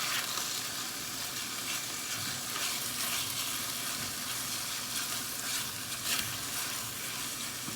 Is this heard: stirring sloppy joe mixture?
yes